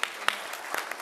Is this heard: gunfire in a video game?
no